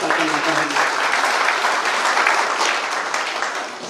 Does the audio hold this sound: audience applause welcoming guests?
yes